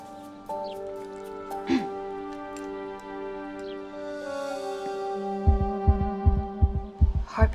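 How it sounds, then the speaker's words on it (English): Fast heartbeat in an animated fantasy episode: rapid, loud low thumps cluster in the last couple of seconds, preceded by sustained humming tones, a brief swoosh and scattered clicks. "Heartbeats really fast."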